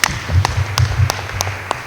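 An AGM audience claps in a short burst, several sharp hand claps with low thumps close by, and no talking over them.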